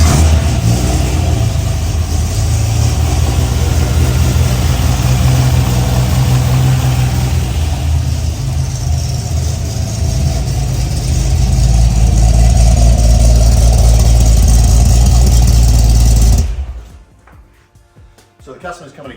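A 6 litre GTR Torana engine roars loudly and continuously close by, revving and holding a deep throaty drone for most of the clip before cutting off abruptly near the end.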